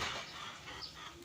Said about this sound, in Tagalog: Ayan, ang lalaki ng mga manok dito.